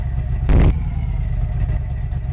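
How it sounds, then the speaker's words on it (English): A rough, rumbling, unhealthy old car engine idles loudly, with one brief sharp burst of revving early on before it settles back to a steady chug. "And it's also very loud. I don't think this engine is gonna cut it for us"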